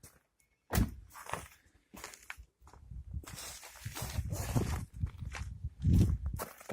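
A thin-skinned Lada Kalina car door is handled up close, giving a series of hollow thunks and knocks with rustling in between, the last thud the loudest.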